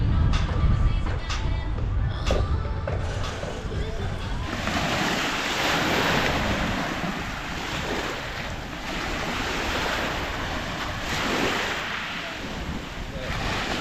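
Sea waves wash steadily onto a big, partly shaly beach at Great Yarmouth, a continuous loud surf roar with wind buffeting the microphone throughout.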